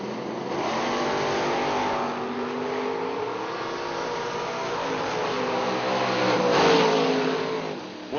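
At a drag racing meet, an 86 Dodge Charger and a 69 Camaro rev hard and accelerate away, their engine notes climbing and swelling with a louder surge near the end.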